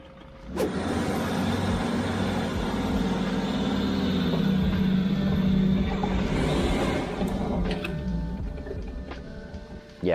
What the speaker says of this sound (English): I've got a clip to compare from the van trying to climb our hill on the land with the semi-box